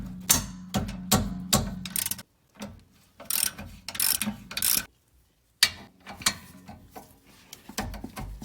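A ratchet wrench loosens the rear brake rotor mounting bolts on a Honda Odyssey in quick bursts of clicking, pausing between runs and resuming in short irregular strokes at close range.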